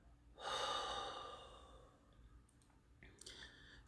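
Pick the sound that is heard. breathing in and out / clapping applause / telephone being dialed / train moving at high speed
breathing in and out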